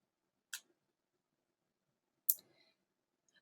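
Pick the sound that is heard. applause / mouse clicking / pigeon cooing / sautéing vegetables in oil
mouse clicking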